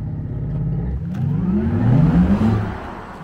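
A Porsche Taycan electric car accelerates past close by, its futuristic motor whine climbing steadily in pitch over tyre and road noise before fading slightly at the end.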